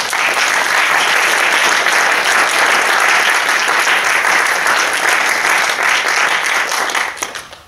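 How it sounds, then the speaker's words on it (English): Sustained loud applause from an audience at a university fiction reading, dense and steady clapping filling the room before tapering off at the end. "So we applaud our faculty for them."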